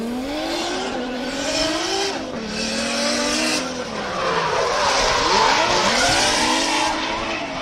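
Toyota JZX100 Mark II drift car on the Ebisu West Course, its engine revving and rising in pitch while the tires squeal in long skids. Loud and close throughout, with no talk.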